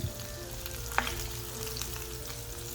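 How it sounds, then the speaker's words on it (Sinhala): Onions and garlic fry in hot oil with curry leaves, giving a steady moderate sizzle with one brief clink of a utensil partway through. "ලූණු ටිකක් ටෙම්පරාදු වෙනකොට සුදු ලූණු ටිකක් එකතු කරනවා."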